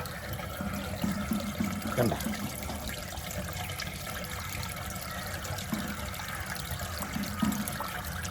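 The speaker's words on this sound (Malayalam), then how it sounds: "ആ റിൻസ് എന്ന് പറഞ്ഞ ഓപ്ഷനിലിട്ടപ്പം വീണ്ടും വെള്ളം ഇങ്ങനെ പൊയ്ക്കൊണ്ടിരിക്കുകയാണ്" Water runs steadily from a water purifier set to its rinse option, a faint continuous trickle and splash with a brief spoken word over it.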